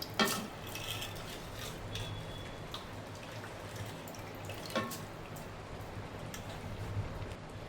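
Chicken biryani ingredients are mixed in a pot with a steady wet, scraping churn, a few sharper clinks and splats standing out close by, with no talking.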